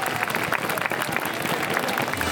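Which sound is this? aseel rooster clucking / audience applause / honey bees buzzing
audience applause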